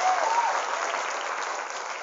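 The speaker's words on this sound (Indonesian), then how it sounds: "Tepuk tangan untuk kita semua bergelar." An audience of women teachers at an Islamic boarding school breaks into applause, a dense, even wash of many hands clapping at once, steady and fairly loud throughout with no clear voices.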